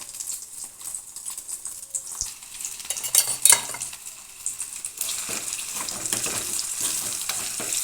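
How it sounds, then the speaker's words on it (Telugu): Food is stirred and fried in a pan, with a soft steady sizzle under scraping strokes of a spoon. The stirring gets more active and louder toward the end, and no one speaks. "కొంచెం కలుపుతూ ఇలా కొంచెం ఫ్రై చేసుకోవాలండి"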